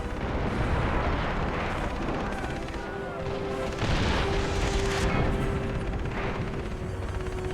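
Explosions and weapon fire in the video game Far Cry 3, a dense, continuous roar of booms and gunshots with a faint tonal hum running through it, loud and unbroken throughout.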